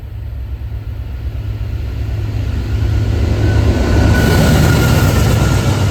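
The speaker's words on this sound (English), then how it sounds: "I got to see this Amtrak train chugging through the countryside." An Amtrak train rolling through countryside gives a loud, steady low rumble that swells as it draws closer, with a faint high whine joining partway through and no voices.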